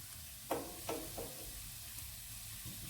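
Meatballs with peas are gently stirred from underneath in a pot: a quiet, low sizzle with three soft utensil knocks early on, then steady simmering.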